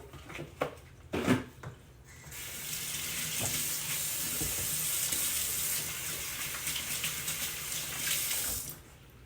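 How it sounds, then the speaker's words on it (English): Running tap water splashing steadily into a kitchen sink while hands are washed, a few knocks and clatters first, then a continuous close hiss of flowing water. "I'm just gonna quickly wash my hand here"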